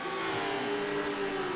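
A race car engine idling in Forza Motorsport 7, a steady, sustained drone with a fixed pitch that holds at moderate loudness with no voices.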